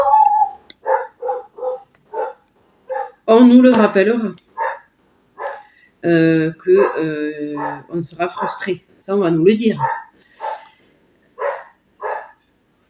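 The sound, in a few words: dog barking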